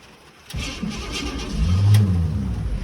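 A car engine with an MSD ignition on an HEI distributor cranking without gas, a rough mid-pitched starter churn that begins abruptly and swells slightly louder partway through without catching.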